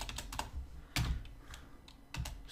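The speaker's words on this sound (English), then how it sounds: "this friggin' keyboard" Keys clatter on a computer keyboard in short bursts of quick taps separated by brief pauses, close and moderately quiet, with no talk.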